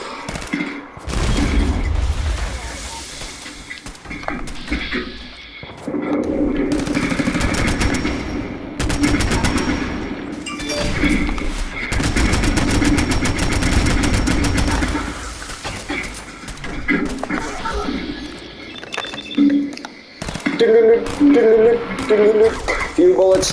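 Gunfire in Fallout 4 comes in bursts of rapid automatic shots and single cracks with booming hits, loud and close, separated by brief lulls, with a voice talking in between.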